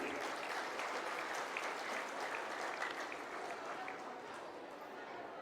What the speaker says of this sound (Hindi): मैं चाहूंगा कि एक बार उनके स्वागत में आप लोग जोरदार ताली बजाएंगे।